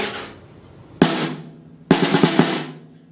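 Two muffled hits on a drum with a dampener on the head, the first a single thud, the second followed by a short burst of rapid strokes, each dying away quickly with little ring.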